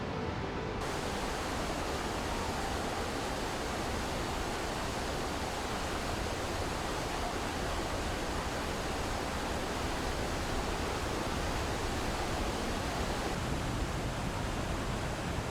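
Iguazu Falls, a vast waterfall spread over 2,700 meters: a steady, dense roar of falling water, continuous and unbroken throughout, heard from a distance with no voices.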